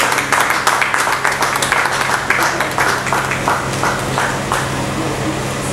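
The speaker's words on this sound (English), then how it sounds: "A hand of applause." An audience at a maritime industry lecture claps, a steady patter of applause with distinct individual claps close by, while a low background hum runs underneath.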